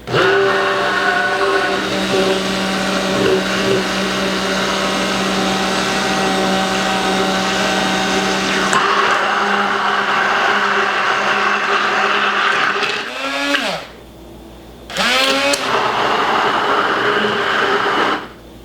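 Blender running at high speed whipping homemade avocado oil mayonnaise, a loud steady motor whine that shifts pitch partway, then cuts out and restarts in short bursts.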